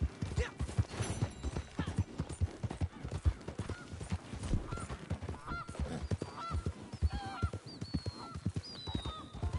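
Video game goose honks sound repeatedly over clip-clopping horse hooves, loud sharp calls cutting through near the end while a player talks faintly.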